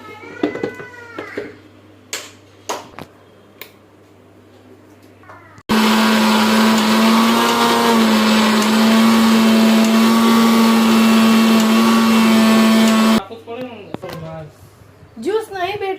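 A small mixer grinder whirs loudly and steadily for several seconds in a home kitchen, with conversation before it starts and after it stops.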